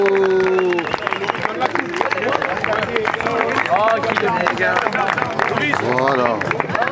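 A crowd applauds rugby sevens teams at a tournament prize ceremony, steady clapping and cheering underneath an announcer's amplified voice that talks over most of it.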